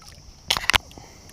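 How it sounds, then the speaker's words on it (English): A paddle kayak moving upstream on a river, with a quick cluster of two or three close splashy paddle strokes in the water, briefly loud against a quiet background. "I gotta stay sitting to paddle upstream because this is just a paddle kayak"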